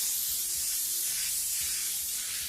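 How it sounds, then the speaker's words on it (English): An airbrush sprays a wide dusting of paint, producing a soft, continuous hiss that stays even throughout with no pauses. "I get a nice dusting, a wide spray, no streaks or anything"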